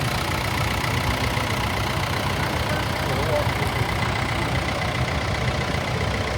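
A 1989 Ford 7710 Series 2 tractor with a four-cylinder turbo diesel engine drones and idles steadily and close by at a steam and gas show parade.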